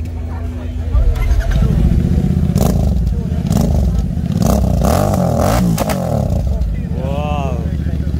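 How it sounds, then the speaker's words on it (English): A Royal Enfield Interceptor motorcycle fitted with a modified SS Motocop exhaust revs repeatedly at the Rider Mania 2022 gathering in Goa, loud rising and falling blips over an idling engine, with nearby speech and crowd chatter. "Wow, this is a modified exhaust in the interceptor"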